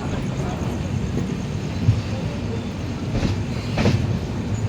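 Train 15655 from Guwahati to Katra rolls into Jammu Tawi station, a loud steady rumble of railcars with faint wheel clacks, heard from on board.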